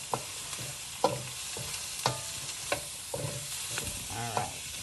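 Onion, garlic and mixed vegetables for a shrimp and chicken jambalaya frying in a pan, a steady close sizzle broken by several sharp scrapes and clatters of stirring spaced through the stretch, with no voices.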